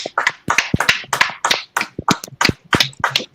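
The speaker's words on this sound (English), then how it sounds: "can we get a round of applause for Naleev?" Audience applause at an anti-bullying event, a burst of close, loud clapping with rapid irregular hand claps that continues without pause.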